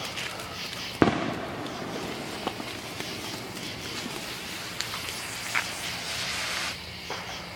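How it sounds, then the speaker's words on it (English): A smoke bomb firework going off outdoors during a backyard fireworks session: a sharp pop, then a steady hissing spray with a few faint crackles, fairly close. "Smoke bomb."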